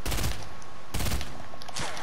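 Video game gunfire in Fortnite from a new weapon, two heavy bursts of shots separated by a short gap, with a third, lighter burst at the end against steady background game noise.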